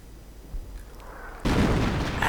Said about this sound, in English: And more artillery this time against the German Volksgrenadiers.